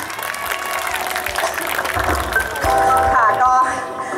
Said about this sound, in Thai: ขอเสียงปรบมือให้ท่านด้วยค่ะ